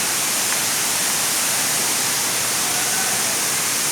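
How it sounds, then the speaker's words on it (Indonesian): Steady broadband roar of a deep waterfall at a recreation site in Nias, continuous and even throughout with no voices rising above the rush of falling water. "air terjun yang keduanya di bawah, dan sangat dalam sekali"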